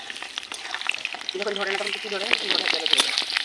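Food frying in a pan as it is stirred: a continuous bright sizzle and crackle runs close and steady throughout. A voice is heard faintly in the middle.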